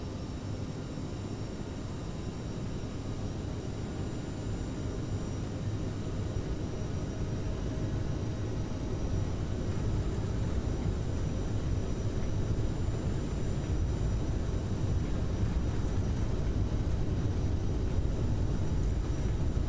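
A SkyWest airliner in Microsoft Flight Simulator accelerates down the runway for takeoff, its steady, broadband engine roar holding loud and constant throughout with no talk over it.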